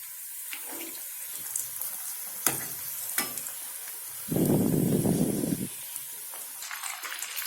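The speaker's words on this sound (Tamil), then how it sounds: "பாருங்க, இப்ப சிக்கன் நல்லா ஃப்ரை ஆயிருச்சு." Chicken pieces for crispy chilli chicken fry in hot oil in a pan, a steady high hiss with a few utensil clicks and a louder, denser burst of sizzling midway, no talk.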